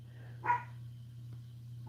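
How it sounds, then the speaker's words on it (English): One short, sharp dog bark rises over a steady low electrical hum, and a second bark begins right at the end. "The dogs are going to get to barking."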